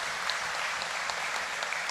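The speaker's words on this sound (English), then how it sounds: "Give them a round of applause." Mourners at a funeral applaud for a sustained stretch, a dense, even patter of many hands heard at moderate distance with a few sharper claps standing out, no speech over it.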